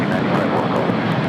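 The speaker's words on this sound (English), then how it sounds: "We got that United Dreamliner now rolling down to 25 right." A jet airliner's engines roar steadily at LAX as a Dreamliner rolls toward the runway, a dense continuous drone with talk over it.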